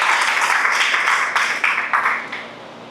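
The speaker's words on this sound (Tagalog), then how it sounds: "Isang malakas na palakpak para sa Panginoon." A church congregation at a Filipino pastor's service claps loudly in a dense burst of applause that fades gradually over a few seconds.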